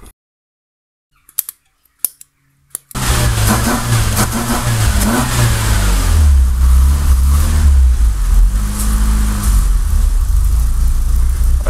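A Fiat Seicento Turbo engine runs too rich, starting after about three seconds of near silence broken by a few faint clicks. It settles into a loud, steady, rough idle with a slightly uneven, wavering tone and no talk over it.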